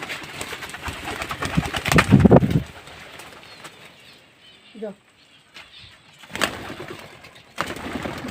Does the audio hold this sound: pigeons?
yes